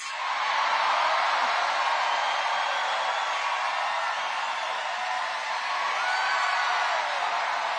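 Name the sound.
rally crowd cheering loudly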